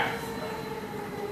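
A train rumbles on the tracks as a dense, steady roar with a faint metallic whine running through it, loud and continuous throughout.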